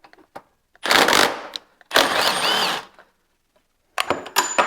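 A 13mm bolt being removed from a Ski-Doo turbo muffler mount with a power tool: three loud whirring bursts, each about a second long, separated by brief silences and small metallic clicks, heard up close.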